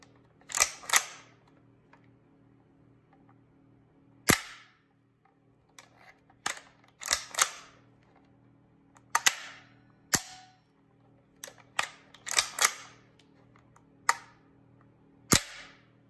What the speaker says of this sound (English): Let's check the trigger on both of these.